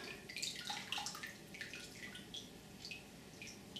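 Water draining out of a papermaking tub with trickling, dripping splashes, close by and quiet, steady for a few seconds with no talking.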